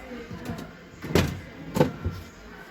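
A glass-fronted display cabinet door in a Conforama furniture showroom is opened, giving two short, close clicks or knocks about half a second apart over a soft room background.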